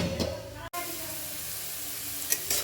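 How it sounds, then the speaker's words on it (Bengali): Potatoes fry in a pan for Bengali aloo bhaja, sizzling steadily and loudly throughout with a brief cutoff near the start and a couple of stirring scrapes toward the end. "এটাকে আমি আর চাপা দেবো না, এবার এমনিতেই ভাজবো।"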